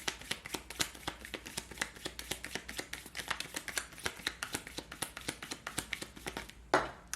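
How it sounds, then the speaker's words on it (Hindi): A tarot card deck being shuffled by hand: a quiet, steady run of rapid riffling flicks lasting several seconds, ending with a brief louder rustle. "तो शफल कर लेते हैं।"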